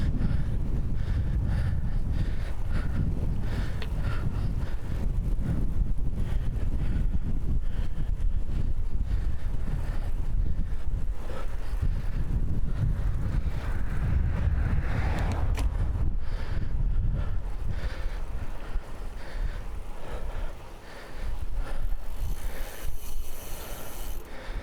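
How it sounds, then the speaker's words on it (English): Steady wind buffeting a bicycle rider on an afternoon commute on Vancouver Island, BC, a continuous low roar close to the microphone for most of the stretch, briefly easing near the end. "Oh, wind!"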